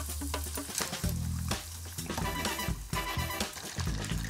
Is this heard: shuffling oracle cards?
no